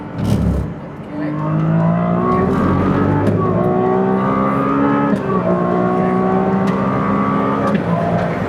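Ferrari F80 accelerating hard on a track launch, the engine note climbing loudly through the revs, dipping at a gear change and rising again as it pulls on, with faint voices underneath.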